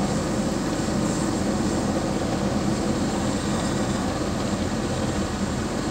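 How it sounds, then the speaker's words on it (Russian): A cargo helicopter arriving overhead, heard as a steady, loud, continuous engine and rotor drone that fills the whole stretch without pause. "Вот он, наверное, наконец-таки мой вертолет"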